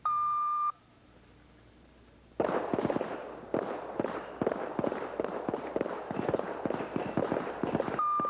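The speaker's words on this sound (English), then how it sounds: "In this next turn, shooters are required to fire with their weak hand only." Pistol shots fired weak hand only at a shooting match ring out in a rapid string of sharp cracks, close and loud, after a short electronic beep and a quiet pause, with another beep at the end.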